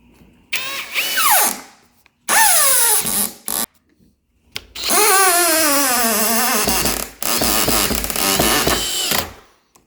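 A power drill drives a screw into a door strike plate in bursts of whining motor pitch that rises and falls, loud and close, with short silent pauses between runs.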